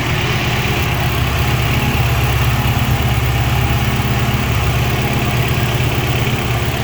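A Honda Civic engine with a suspected fault idles steadily nearby, a constant low rumble and hum with no change in pitch and no voices.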